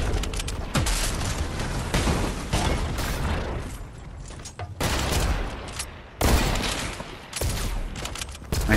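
Rapid bursts of gunfire from a Fortnite match, loud and close, crackling in dense volleys with brief gaps between them and no talk.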